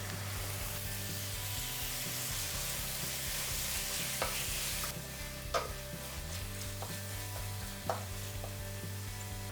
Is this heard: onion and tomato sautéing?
yes